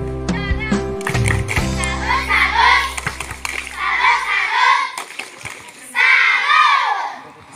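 A crowd of schoolchildren at a Hardiknas quiz competition shouts a loud rhythmic group cheer in unison, bursts of chanted voices rising and falling, preceded by a short amplified announcement.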